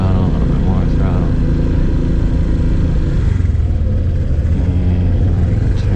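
A Honda PCX scooter engine rumbles steadily and loudly with throttle applied, a low continuous drone that fills the whole stretch with little change in level.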